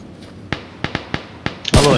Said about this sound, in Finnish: Mua ammutaan.